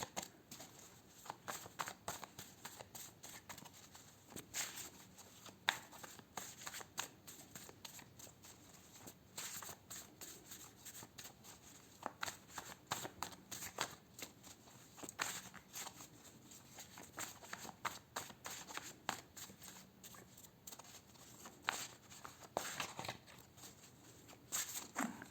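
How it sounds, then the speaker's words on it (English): A deck of tarot cards is shuffled by hand: soft, quiet riffling and flicking of cards, repeated in short irregular bursts throughout, with faint background noise. "I'm going to shuffle it."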